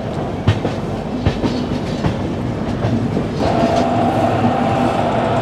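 Passenger train on an Indian line pulling out of Guntakal Junction, a steady rumble with rhythmic rail clicks and a faint tonal hum joining midway, continuous and close with no talk.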